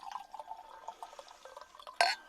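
Cider from Tricky Cider is poured into a glass, giving a soft, steady trickling splash near the microphone that ends in a brief louder burst as the pour finishes.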